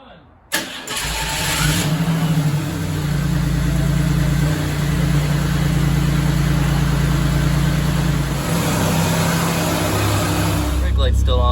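A Chevrolet Camaro left in storage for over ten years cranks briefly and catches, then settles into a steady, loud, close-up idle that runs for about ten seconds, with voices faintly present.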